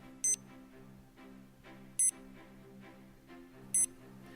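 FINIS Tempo Trainer emitting three sharp electronic beeps at a steady interval of about 1.75 seconds, clear and high over quiet background music.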